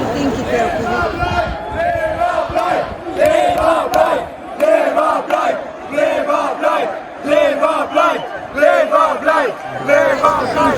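A large crowd gathered outside a town hall chants rhythmically in loud, continuous waves of voices, repeated phrases rising and falling throughout.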